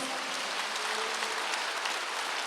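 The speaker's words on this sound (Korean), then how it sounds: "믿는 사람만 박수로 영광을 돌려" Church congregation at a Wednesday worship service applauds, a steady, even wash of clapping heard at moderate distance with no voices over it.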